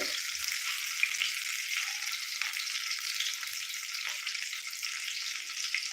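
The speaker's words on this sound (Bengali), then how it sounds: "মটমট করে ভেজে নেবেন ভেজে গরম গরম গরম পরিবেশন করবেন" Chicken satay frying crisply in a pan: a steady, close, bright sizzle that holds evenly for the whole stretch with no voices.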